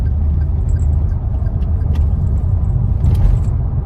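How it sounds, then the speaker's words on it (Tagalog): Steady low road rumble of many cars in heavy traffic on the road to Tagaytay, a continuous near drone with faint jangling above it, no talk. "parang ang dami sasakyan, anak. Pagpunta ng Tagaytay"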